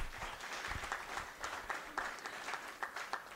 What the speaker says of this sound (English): That alone deserves a round of applause.